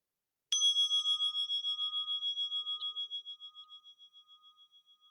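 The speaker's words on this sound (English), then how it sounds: "we will begin and end with the sound of the bell." A single meditation bell struck once, its clear bright tone ringing out alone and slowly fading over several seconds with a gentle pulsing shimmer.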